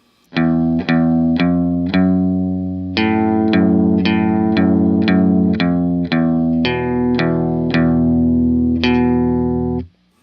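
A clean electric guitar plays the plucked intro riff of a song, single notes and chords shimmering with a chorus effect, loud and alone with no talking.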